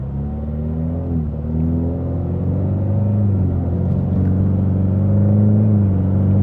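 A 2026 Ford Mustang EcoBoost pulls at partial throttle in track mode, its engine rising in a steady, loud drone with a low rumble throughout.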